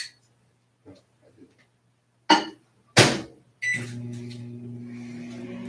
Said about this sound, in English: It's never going to get hot if you just let it sit in the microwave